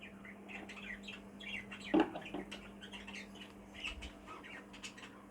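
A yellow face cockbird in a show cage gives scattered short chirps and squawks, one louder squawk standing out, over a steady low background hum, no talking.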